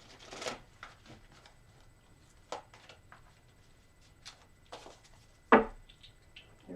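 Cards are shuffled quietly up close, giving scattered light flicks and slides with one sharper knock partway through.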